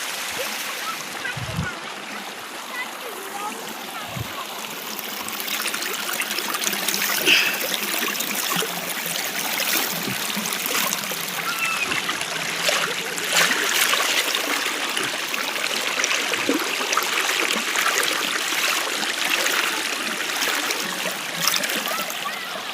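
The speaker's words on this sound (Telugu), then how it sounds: "వాటర్ కూడా ఎట్లా వస్తుంది చూడండి ఫ్రెండ్స్, వాటర్ కూడా బాగా వస్తుంది" Water flowing strongly from a well at a village farm, a constant rushing trickle and splash close by, steady throughout with occasional low thumps and no talk over it.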